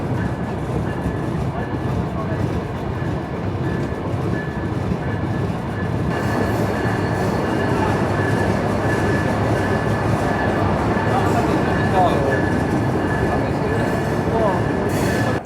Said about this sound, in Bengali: ঢাকা থেকে নন স্টপভাবে চলে আমাদের ট্রেন প্রবেশ করতেছে তার যাত্রার প্রথম স্টপেজ ভাঙ্গা জংশন রেলওয়ে স্টেশনে